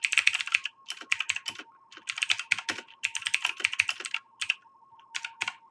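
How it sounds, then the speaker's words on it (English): Rapid bursts of keystrokes on a computer keyboard at a ham radio station set up for FSK RTTY with an Elecraft transceiver. The typing is close and clear, in uneven clusters with short pauses, and no one speaks. "I could start typing data down here."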